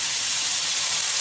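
Water hits a hot pan of long beans cooking with fried chicken, bursting into a loud, steady sizzling hiss of steam that fills the short moment.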